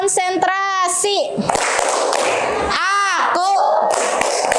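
A primary school class claps in rhythmic patterns, sharp hand claps and thumps alternating with children's chanted voices in a classroom.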